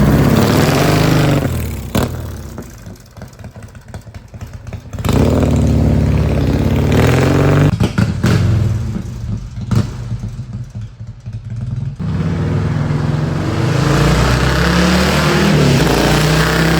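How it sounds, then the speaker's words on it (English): A 2002 Harley-Davidson Softail Custom with a 128 S&S engine revs loudly up close, its deep rumble swelling in repeated bursts with a few clattering thumps between throttle blips. "2002 Harley Davidson Softail Custom with a 128 S&S."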